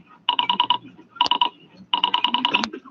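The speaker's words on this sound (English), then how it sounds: "Ringing the police department." Old-style telephone bell ringing in a radio drama sound effect, three bursts of rapid trilling rings separated by short pauses, loud and close.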